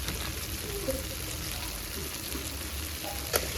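Mustard paste with black cumin, chopped green chilli, salt and turmeric frying and being stirred in a pan for hilsa, a steady sizzle with scattered spoon scrapes and a sharp click near the end.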